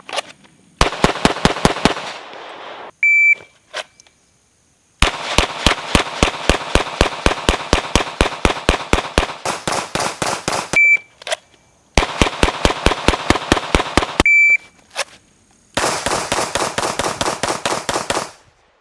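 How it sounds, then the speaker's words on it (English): Handgun shots fired at a range while aiming with a red dot optic: loud, sharp reports in rapid strings of many shots, separated by brief pauses, close and dominant with no talking. "and I can shoot and shoot accurately."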